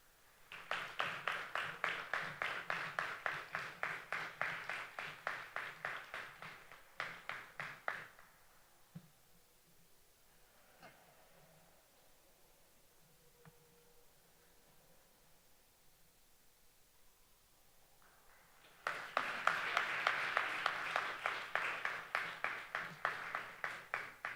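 Audience applause at a 2025 IIRP commencement ceremony: a sustained burst of many hands clapping, then a lull of quiet room noise, then a second loud round of clapping swelling up again.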